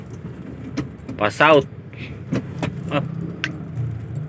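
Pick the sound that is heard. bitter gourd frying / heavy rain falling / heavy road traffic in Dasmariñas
heavy road traffic in Dasmariñas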